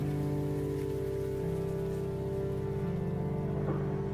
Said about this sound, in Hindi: मौसिन रम की बारिश में तो गजब का शोर है, पर खिड़कियों से टपकती बूंदों के साथ